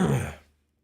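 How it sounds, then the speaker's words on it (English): A single short throat clearing from a man who had spent time out in the cold, close and fairly loud, fading out within half a second into silence. "sorry about clearing my throat so much, everybody"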